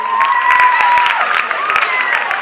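An audience at a community awards ceremony claps loudly and steadily throughout, a dense close wash of hands with a few cheers mixed in.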